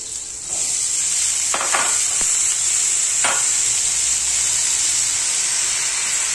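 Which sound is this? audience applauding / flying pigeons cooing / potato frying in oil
potato frying in oil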